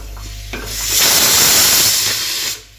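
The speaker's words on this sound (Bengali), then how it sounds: "যত ফুটে ফুটে নেড়ে নেড়ে আমি একদম জাল দিচ্ছি" Milk boiling for rabri and being stirred, a loud close hiss of bubbling and steam that swells for about two seconds and then cuts off, with no talk.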